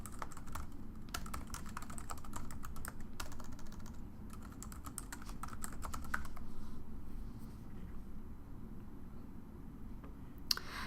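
Rapid typing on a computer keyboard while entering login credentials, with dense clicking keystrokes that run steadily for most of the stretch and then thin out near the end.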